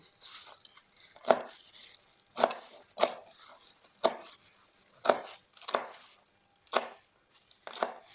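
A knife chops chicken into pieces on a board with about ten firm, evenly paced thuds, close by and fairly quiet.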